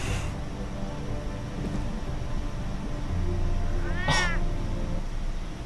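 A cat meows once in the Batman Telltale Series game, a short rising-falling cry standing out over a steady background of rain-like noise and low rumble.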